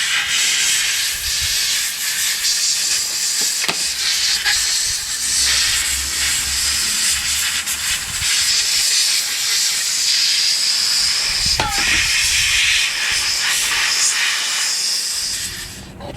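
Compressed air from a compressor blows loudly through an AR-15 bolt carrier group, a steady harsh hiss lasting the whole span with slight fluctuations and a couple of brief knocks.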